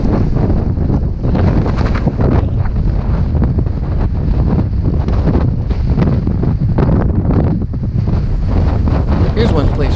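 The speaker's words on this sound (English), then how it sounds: "It was, kid you not, like sustained 30-mile-an-hour gust" Strong sustained wind gusts roar across the microphone on a Moab mountain bike trail, a loud, continuous buffeting rush that fills the whole stretch without letup, with a voice faintly talking underneath.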